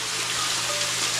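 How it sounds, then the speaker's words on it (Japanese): Steady, dense rushing of a waterfall inside the Senbutsudo cave at Kosanji, a continuous broad wash of falling water that fills the space without pause. "なんか音する、水の音する"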